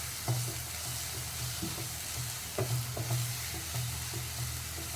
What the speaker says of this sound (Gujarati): આપણે ડુંગળીને થવા દઈશું.